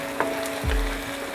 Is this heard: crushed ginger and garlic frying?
yes